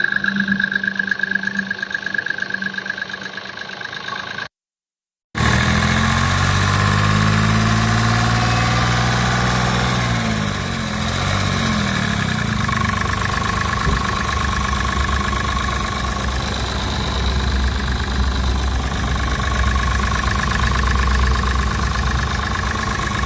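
A 2020-model seven-seater car engine idles close by with a steady low hum, then is lightly revved, the pitch rising and falling before settling into a continuous idle; an earlier tone cuts off briefly before the engine takes over.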